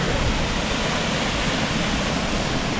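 Heavy downpour in Blue Mountains National Park, Australia, a steady, dense roar of falling rain without breaks, loud and close with no talk.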